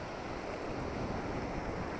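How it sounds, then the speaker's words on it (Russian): Sea waves roll onto Massandra beach in Yalta, Crimea, on a spring day, a steady, dense wash of surf mixed with gusty wind noise on the microphone, with no voices. "море, вот это волны. И ветер, конечно, слышится."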